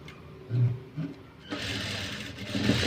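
A sewing machine stitches along a blouse lining on a princess-cut blouse; after a few quiet thumps, the motor whirs into a steady, close, continuous run through the second half.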